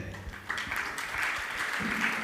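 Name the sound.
audience clapping at a religious discourse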